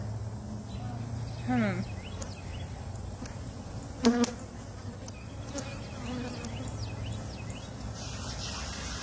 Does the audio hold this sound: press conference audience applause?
no